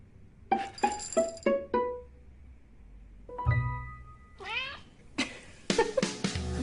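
A cat meows clearly up close, mixed with bright glassy clinks and chimes ringing out in short bursts.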